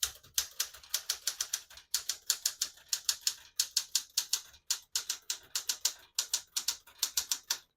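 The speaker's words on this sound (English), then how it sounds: "I'll type a sentence on the next line." Rapid bursts of crisp mechanical keystrokes on a 1967 Smith-Corona Super Sterling portable typewriter in quick runs separated by short pauses, close and clear with no talking.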